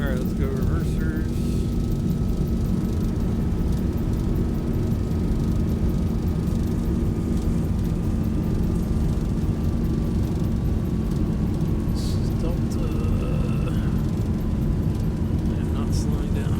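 Thrust reversers roar as an airliner lands in X-Plane 12, a loud, sustained engine rush with a faint whine dropping slowly in pitch. It stays steady for the whole stretch.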